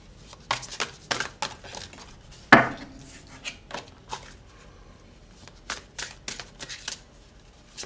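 Tarot cards are handled and turned over at close range, giving a series of soft, crisp flicks, slaps and rustles at irregular intervals, with one sharper snap early on and quiet gaps between.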